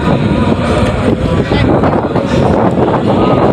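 Wind blows steadily and loudly across the microphone outdoors at a market, a continuous rushing roar that holds for the whole stretch with no clear gaps.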